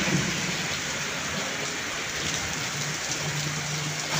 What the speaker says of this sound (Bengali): দেখেন বৃষ্টির অবস্থা